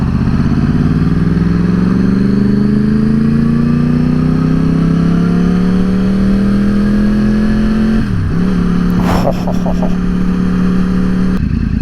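A motorcycle engine idles loudly up close at a track day, its pitch climbing slowly as it revs, then dipping briefly with a few clicks before settling again.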